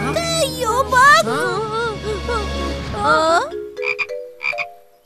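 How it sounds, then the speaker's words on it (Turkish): A small cartoon frog croaks in short, rhythmic bursts near the end, after a stretch of lively animated voices and music. "Hey, bu sadece küçük bir kurbağa."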